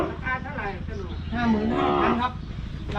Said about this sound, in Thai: สวยจริงๆ ครับ ชุดนี้ วัวตัวเมียคู่แม่ลูกครับ